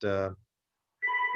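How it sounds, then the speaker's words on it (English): A telephone rings in two short electronic bursts separated by a half-second silence, clear and moderately loud. "I apologize for the phone ring here."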